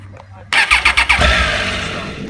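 A Triumph Tiger 800 XRT motorcycle engine cranks with a few quick, loud starter pulses, then catches and settles into a steady, close idle.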